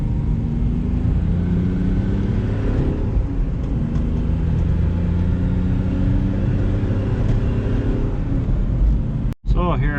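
A Smart Fortwo CDI car with an automatic-shifting transmission pulls away from a start. Its engine drone rises in steady stepped sweeps under continuous talk, then cuts off briefly near the end.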